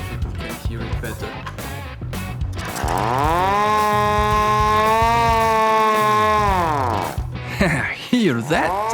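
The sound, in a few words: 3D printed mechanical alarm siren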